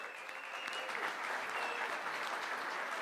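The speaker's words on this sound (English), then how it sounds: "Round of applause for the judges." A roomful of people at a mobile apps competition applauds for the judges, a steady, moderately distant wash of clapping lasting throughout.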